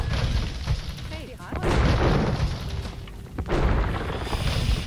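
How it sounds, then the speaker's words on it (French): Bombard cannons fire in Age of Empires II during a siege of Paris, giving deep booms and crashes amid dense battle noise. Someone talks over the action. "Les canons de Bard sont parfaits pour s'occuper des."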